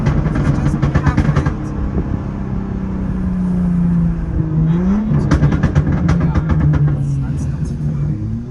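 A modified BMW 135i engine revs and blips through downshifts, a loud close rumble with pitch swells and crackling pops, someone talking over it.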